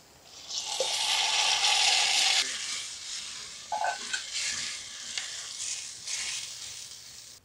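A paste of ground almond, cashew, garlic, ginger and tomato hits a hot pan with a loud burst of sizzling that settles into a steady frying hiss, with a few stirring scrapes partway through.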